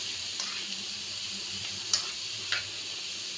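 Vegetables frying in a pan make a soft, steady sizzle with a few faint clicks and taps, fairly quiet and without talk.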